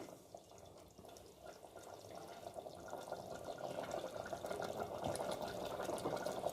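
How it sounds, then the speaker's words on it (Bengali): Hot water is poured into mutton cooking in a pot for a Bihari-style Champaran garlic curry, a steady, faint liquid pour that slowly builds in loudness over several seconds. "আর একটু জল দিয়ে দিই।"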